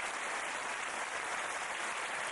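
Studio audience applause from a television quiz show, a steady wash of clapping heard alone at moderate distance for a couple of seconds.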